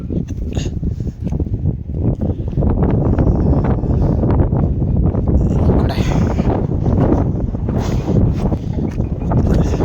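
Strong, steady wind roars across the microphone at a creek, a loud continuous buffeting rush with gusty swells and no clear speech.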